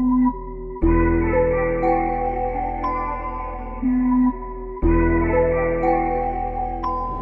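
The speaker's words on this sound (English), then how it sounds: "So after I had all of this, I pitched down the final sample 200 semitones," A chopped vocal sample is pitched far down in FL Studio and sounds as a dark, sustained, looping melodic phrase with deep low end. It repeats in two similar sections, without talk.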